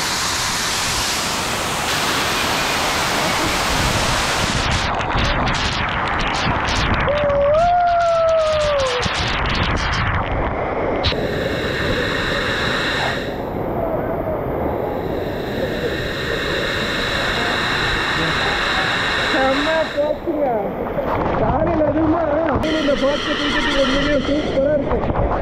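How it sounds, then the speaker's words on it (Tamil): Steady roaring rush of falling water from a waterfall at Courtallam, India, throughout, with a horse whinnying briefly and other tonal sounds layered over the constant noise. "போகிறது நெய் அருவி."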